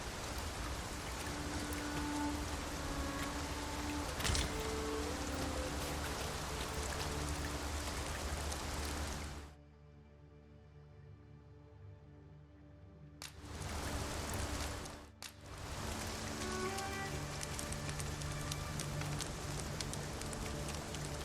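Rain falls in the video game Dragon's Dogma 2, a steady soft hiss of drops on surfaces that cuts out briefly midway and then returns, with no talking.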